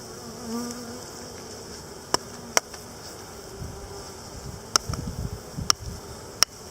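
Honey bees buzz steadily around a hive fitted with a frame feeder during a first hive inspection, a close, continuous hum broken by several sharp clicks and some soft handling noise.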